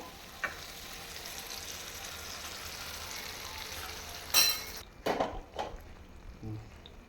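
Stuffed bitter gourd curry cooked as a gravy sizzles steadily in a pan, a soft continuous frying hiss with a few louder bursts of stirring near the end.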